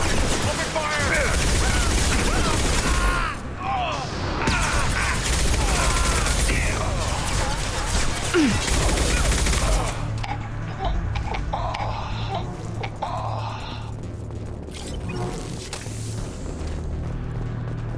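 Rapid gunfire and booming blasts during a firefight at an observation post in the Mass Effect 2 video game, dense and loud for about ten seconds before thinning into scattered shots and mechanical clicks under brief voices.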